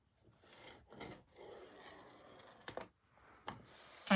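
A bone folder or stylus scoring paper along a scoreboard at set intervals while making a rolltop bag; soft, close rubbing and scraping strokes repeat unevenly, with a few sharper clicks and taps.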